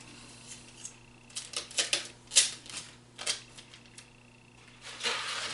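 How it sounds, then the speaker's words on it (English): Adhesive tape pulled and pressed onto a cardboard soda box being shaped into a hat, giving a series of sharp crackling rips and taps that cluster in the middle and return near the end, close up with no talking. "So I flop that over and I put a piece of tape on."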